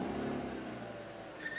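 Safari game-drive vehicle idles and revs with a steady low engine drone as the driver works the clutch on a sunrise drive, fairly close, with no talking.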